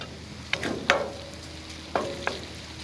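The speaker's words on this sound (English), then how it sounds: "I've already been stir frying this for approximately a minute" Pork fried rice is stir-fried in a pan, a low sizzle under a few sharp scraping strokes of a spatula, close and without talking.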